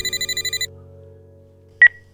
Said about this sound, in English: the phone in my pocket, The same phone I had for 2 years now began to ring